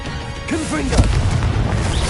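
A Confringo explosive spell cast in Hogwarts Legacy bursts with a loud low boom around the middle, followed by sustained rumbling blasts and a whooshing magical swirl, with a voice heard over the effects.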